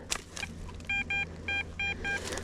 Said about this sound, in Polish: taki monetkowy sygnał